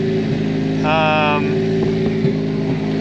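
A Foxbody Mustang engine runs at an extremely high idle, a loud, steady close drone with a brief whining tone, while a voice talks over it.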